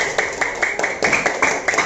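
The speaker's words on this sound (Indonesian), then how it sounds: "kalau tidak kasih tepuk tangan dulu buat Lani" A class claps for a student in a school lesson, with a run of sharp, regular hand claps repeating at a steady rhythm, fairly close and alone without talk.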